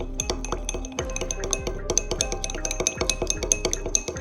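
Lemon juice, oil, mustard and honey being whisked together for a salad dressing in a glass bowl, a rapid, steady clinking of a utensil against glass, close and clear with no talking.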